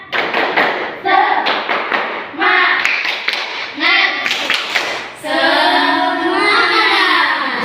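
A class of children claps in quick rhythmic bursts of spirit clapping while voices chant along, ending in a loud sustained cheer.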